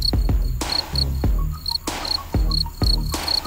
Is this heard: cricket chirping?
yes